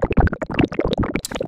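Poison shot effect built in the Serum soft synth for the monster Roah: a dense, bubbling, gurgling burst of rapid wet pops and squelches, loud and close and steady throughout, with no voices.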